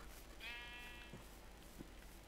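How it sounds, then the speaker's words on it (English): A single sheep bleats in Minecraft, one wavering, nasal call heard faintly over steady background noise. "See, there's sheep, but I don't want sheep."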